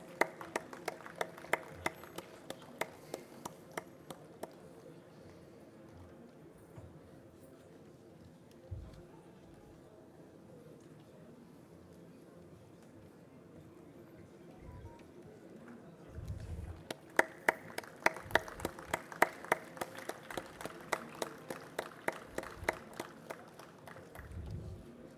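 Audience clapping at a sugar technologists' annual conference, bursts of applause rising in two waves of sharp claps over a steady crowd murmur, loudest near the end.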